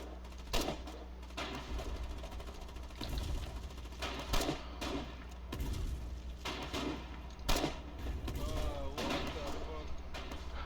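Gunfire in the WWII-style war game Foxhole: repeated bursts of rifle and machine-gun shots over a low engine drone, some shots near and sharp, others distant, in irregular clusters.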